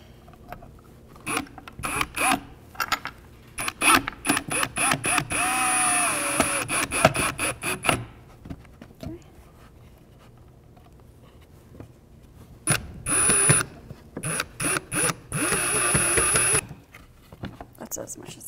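Power drill driving screws to fasten brackets into pilot holes on a DIY woodworking project: two bursts of close buzzing motor whine, each a few seconds long with stuttering pulses, separated by a quieter pause.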